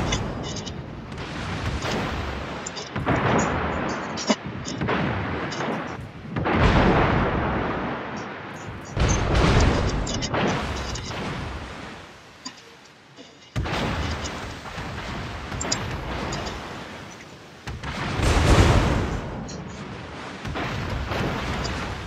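Warship guns fire in a World of Warships clan battle, heavy booming salvos rolling out in several long bursts over a constant game rumble, with a player talking at times.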